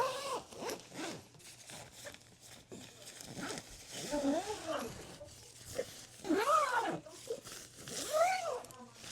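Zippers on a OneTigris Coco Nest solo hot tent are drawn along their tracks in several short, rasping pulls close by, with a person talking in between.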